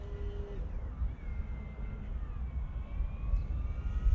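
An FT P-51D Mustang RC plane flies by with a thin motor whine that slides in pitch as it passes, over a constant low outdoor rumble.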